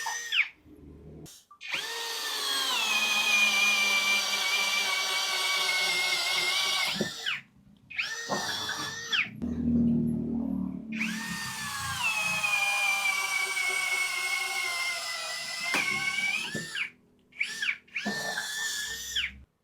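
A brushless drill with a 10mm bit boring into 1.2mm hollow 4x6 steel tube, a loud high whining screech in two long passes broken by short pauses and brief restarts, close up.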